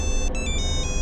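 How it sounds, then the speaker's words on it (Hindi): A phone ringtone plays steady high electronic tones with a short repeating pulse, over a low background hum. "एक अर्जेंट फोन है,"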